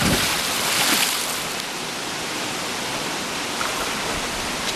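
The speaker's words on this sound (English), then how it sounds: "At a creek, a waterfall." A creek waterfall at Finch Hatton Gorge gives off a dense, even hiss of falling water, close and steady, slightly fuller at the start and otherwise unchanging.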